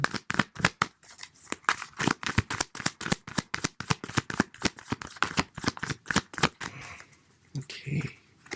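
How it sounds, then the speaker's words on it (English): Tarot cards are shuffled by hand in a rapid run of crisp riffling slaps, close and clear, with uneven rhythm, before the shuffling slows and stops near the end. "I'll let it shuffle a little bit more."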